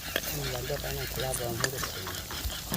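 A spiral potato deep frying in hot oil in a kadai, giving a soft continuous bubbling sizzle with a few clinks, while a voice hums or talks quietly over it.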